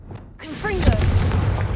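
A Confringo blasting spell explodes in the video game Hogwarts Legacy, a deep boom that swells in and holds, while a voice calls out over the blast.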